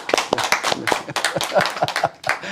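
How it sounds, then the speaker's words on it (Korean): Church congregation applauding a worship leader during a Sunday service, a burst of brisk, uneven hand claps from many people lasting a couple of seconds, fairly close and loud. "우리 찬양 인도해 주신 우리 정미 자매님께 박수 한번"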